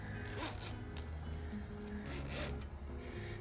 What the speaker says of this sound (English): Make sure your zipper is now nice and straight